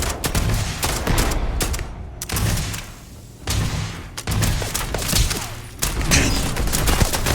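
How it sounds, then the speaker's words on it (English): Video game weapon fire on a target in repeated loud bursts of gunfire and booms, several volleys separated by short lulls, with no talk. "Beginning combat protocol. Firing on target."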